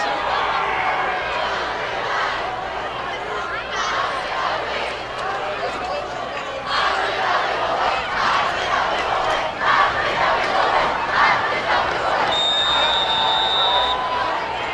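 Crowd noise at a varsity high school football game, West Ranch at Golden Valley, a steady roar of cheering and shouting from the stands, with voices mixed in throughout.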